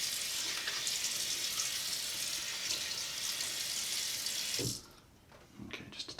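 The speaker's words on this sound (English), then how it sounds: "Let me wet my face and then wet the soap just a tiny bit." Water splashes onto a dried-out Williams shaving soap puck, a loud steady tap-like rush that stops abruptly, followed by a few faint drips and small wet clatters.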